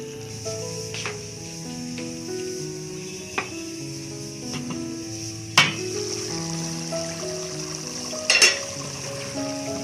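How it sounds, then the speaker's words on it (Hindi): Minced meat (keema) simmering in a pan for a lawab and keema curry, giving a steady soft sizzle and bubbling throughout with a few brief clinks and scrapes of a utensil; no talking. "अब ये कीमा खूब पक रहा है"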